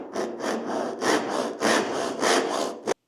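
A Japanese dozuki back saw cuts wood in five or six rhythmic rasping strokes, close and clear with no talk, ending abruptly.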